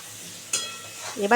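A katla fish head frying in a pan gives a steady low sizzle that swells sharply midway and keeps crackling, with a voice speaking briefly near the end.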